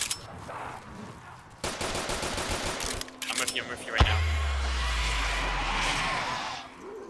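Automatic gunfire in Black Ops 3 custom zombies aimed at a horde of zombies on a Pokémon Pallet Town map, with rapid bursts of shots broken by pauses and then a heavy rumbling blast, with game sounds and some speech mixed in.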